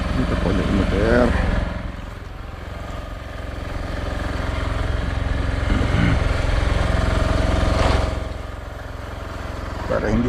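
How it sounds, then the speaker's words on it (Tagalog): A boat motor running at night, a steady rumbling engine that swells and eases in loudness, with people talking at times over it. "Dito po yung motor."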